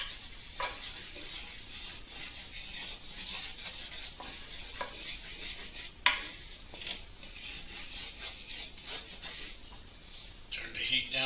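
Food being stirred in butter in a pan for a brisket dinner: soft scraping and sizzling with occasional utensil knocks, fairly quiet and close, while someone speaks briefly.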